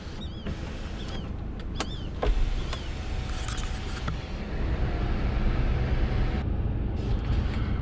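Electric sunroof shade sliding open inside a 2021 Haval H9 seven-seat SUV, a close, steady motor whir with a few small clicks and a slight rise in level toward the end, with no talking.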